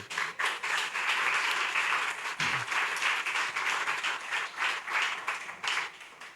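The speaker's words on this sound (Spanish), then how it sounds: "¿Cuánto le dan un aplauso al Rey?" A family worship congregation applauds for the King at a resurrection service, a loud, sustained burst of many hands clapping with a pulsing rhythm, close and full, with no talking over it.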